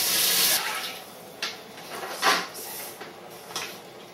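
Tap water pours into a pan to cover a corned beef brisket, starting as a loud rush that breaks off, then returns in a few short splashing bursts as the flow is turned on and off.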